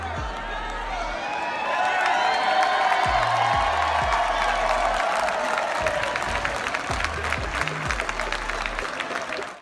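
A WWE wrestling arena crowd swells into loud, sustained cheering and applause, with whoops rising through the roar.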